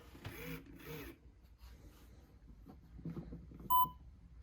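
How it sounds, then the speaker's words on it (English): Quiet mechanical whirring and clicks from a 2005 Furby toy in production test mode, then a single short, high electronic beep near the end. "all Furby does when you press the back is beep"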